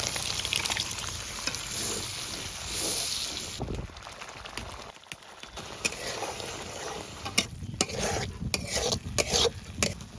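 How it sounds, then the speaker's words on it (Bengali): Beef brain is added to a spice masala and fried with a continuous close sizzle. A spoon stirs and scrapes the pan, clattering now and then, and no one speaks. "মশলাটা ভালো মতন কষানো হয়ে গেছে এখন মজকটা দিয়ে দিব"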